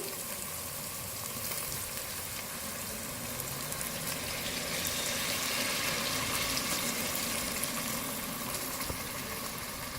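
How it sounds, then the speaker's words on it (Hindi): Water is poured into a pot of mutton kofta curry, a continuous rushing, sizzling wash that holds steady for ten seconds with no talking. "अब इसमें पानी शामिल करेंगे।"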